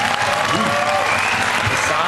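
An audience at a dance battle breaks into loud, dense applause, a continuous crowd clapping that fills the whole short moment.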